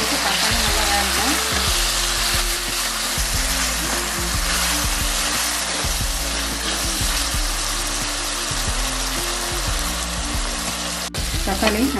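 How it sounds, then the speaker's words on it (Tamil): Tomatoes with onions fry in a pan for a Tamil neem flower gravy, a steady loud sizzle with repeated stirring scrapes, close and continuous. "தக்காளி போட்டு தக்காளி நல்லா வேகணும்."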